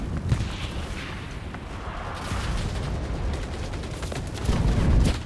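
Battle gunfire in the World War II video game Enlisted: a steady barrage of shots and booming blasts, some close and sharp, others distant, with a louder cluster of reports near the end and no voices.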